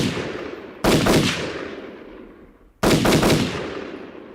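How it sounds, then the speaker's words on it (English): Gunfire in a gun battle crashes out in two very loud, sharp bursts about two seconds apart, each followed by a long rolling echo that slowly decays. "Clocking in at 140 decibels, a gun battle is one of the loudest, most chaotic experiences any human can ever experience."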